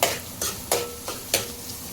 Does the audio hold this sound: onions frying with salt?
yes